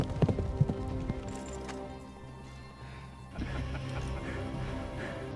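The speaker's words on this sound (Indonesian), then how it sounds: "ternyata yang keluar dari kebun itu hanya seekor kuda" A horse emerges from a garden in a wartime film scene, its hooves clip-clopping in a few sharp knocks at the start before a low background rumble takes over.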